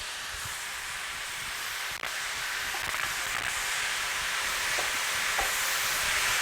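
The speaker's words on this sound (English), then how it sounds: "We're going to add the shrimp to the stir fry." Shrimp go into a stir fry and a steady, bright frying hiss and sizzle fills the pan, with a few faint clicks of utensils and no voices.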